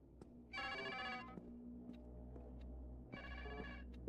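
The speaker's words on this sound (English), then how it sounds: "Phone sounds pretty creepy. Doesn't sound like any phone I've heard." A creepy, unfamiliar telephone in a video game rings in two clear bursts of rapid, tinny trilling separated by a pause, loud over a low steady room hum with no talk.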